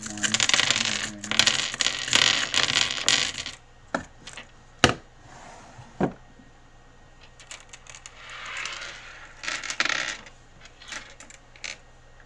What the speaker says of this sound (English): I'll get your crystals.